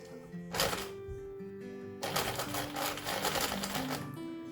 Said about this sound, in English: a couple of little forward and back locking stitches when I start stitching